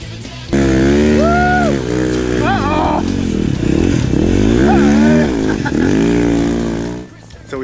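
A snowbike engine revs repeatedly while riding across a snowy burn on Nelson Mountain, loud and close, rising and falling in sharp bursts as the rider goes for a wheelie, with a voice talking over it.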